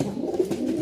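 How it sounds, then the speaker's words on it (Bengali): Pigeons coo close by, a brief low throaty burble rising and falling, clear and alone with no talk. "পাগল করা ডাক সব"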